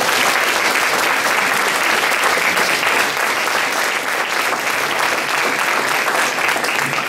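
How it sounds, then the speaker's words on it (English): Loud, sustained applause from a sizable forum audience for a panel, dense steady clapping that continues without letup. "Let's give our panelists here a round of applause"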